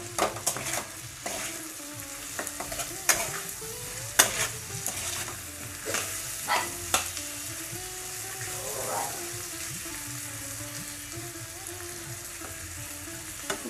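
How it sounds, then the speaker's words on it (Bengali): Spiced potato cutlet mixture with chili flakes, garam masala, chaat masala, green chili and ginger-garlic-onion paste stirred and frying in a pan, with a steady sizzle under repeated scraping strokes of a spoon. "সব কিছুকে ভালো করে মিশিয়ে নেব। নেড়ে চেড়ে নিচ্ছি।"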